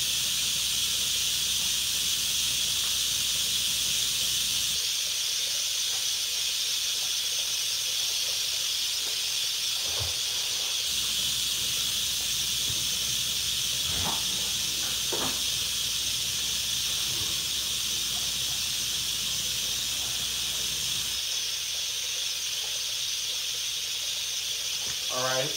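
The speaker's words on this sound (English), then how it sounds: "and the steam will escape" Steady, loud hiss of steam escaping from a pot of braising pot roast runs unbroken throughout, with a few faint clicks and bumps and a voice barely audible beneath.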